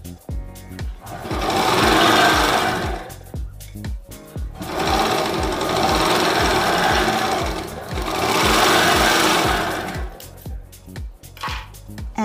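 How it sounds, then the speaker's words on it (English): A serger sewing machine stitches fabric for a turban hat in three sustained runs of fast, steady mechanical whirring, with brief quiet pauses and small clicks between them. "using a serger."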